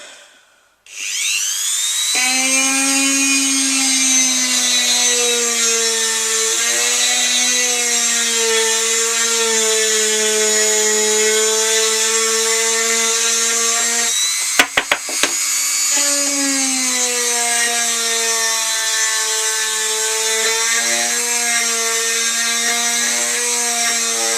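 A power drill drives screws into a Boba Fett helmet, a steady high-pitched whine that runs close and loud almost without a break, dipping briefly in the middle before spinning on again.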